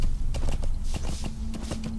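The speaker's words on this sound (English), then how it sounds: "if we're up on a horse like this, it's easy to be spotted." Rhythmic horse hoofbeats clip-clop steadily at a walking pace in Metal Gear Solid V: The Phantom Pain, fairly close, over a low ambient hum with a faint tonal drone joining partway through.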